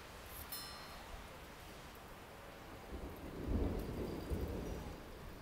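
Rolling thunder from a severe thunderstorm in Hooksett, swelling into a low rumble a few seconds in after a lightning bolt, with steady rain hissing underneath throughout.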